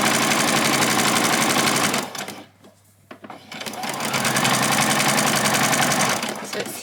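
A sewing machine runs fast and steady while stitching a French seam along the side of a child's dress, breaking off briefly midway before resuming its close, even whir.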